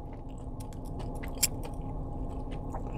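Close, crisp crunching comes from someone chewing a plate lunch dish with onion and a little carrot, with irregular bites and one sharp crack over a quiet background.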